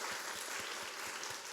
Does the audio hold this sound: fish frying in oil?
no